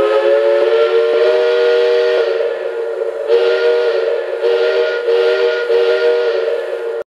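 The whistle of a Lionel Legacy 2-8-0 Consolidation model steam locomotive holds one steady, loud chime tone throughout, while breathy pulses grow beneath it in the second half. No talking.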